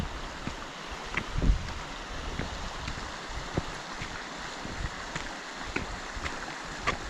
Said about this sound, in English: It's just a nice pleasant breeze blowing around the valley here, coming around from the car park.